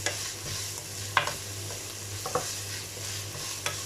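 Vegetables and green chilies fry in a pan with spices, salt, crushed red chili and oregano, a steady sizzle broken by a few sharp spoon knocks and scrapes as they are stirred.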